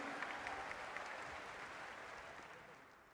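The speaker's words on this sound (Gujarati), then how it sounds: "તાળીઓના ગડગડાટ સાથે અભિનંદન કરવા આપ સૌને વિનંતી કરું છું" Audience applause at a large public event in Rajkot with the Prime Minister, a sustained, even wash of clapping from a big crowd that tapers slightly, heard from some distance and fairly quiet.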